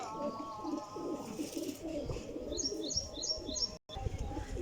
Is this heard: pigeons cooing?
yes